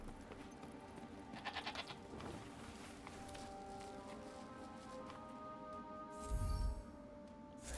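Sheep in the video game Forspoken bleat while being fed, a few short quavering calls over faint footsteps and ambient game sound, moderately quiet.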